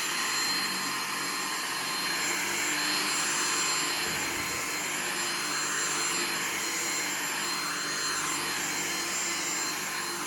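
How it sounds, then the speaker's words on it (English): A Dyson V6 cordless vacuum cleaner runs steadily while vacuuming a room indoors, a constant loud high-pitched motor whine with airflow hiss and no breaks. "Let's go ahead and vacuum this entire room."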